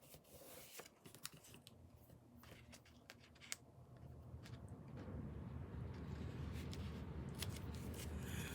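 Scissors snip through a strip of patterned paper while a slimline greeting card is made, a quiet run of short irregular cuts followed by steadier rustling and sliding paper.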